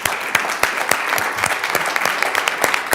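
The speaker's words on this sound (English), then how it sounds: "so let's give ourselves a round of applause" An audience at a school board of education evening meeting applauds in support of student athletes: dense, steady clapping from many hands, near and loud, with sharper individual claps popping out throughout and no talk over it.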